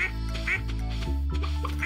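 Farm ducks quacking in the game Stardew Valley, several short nasal quacks repeating at intervals over a steady low hum of background music.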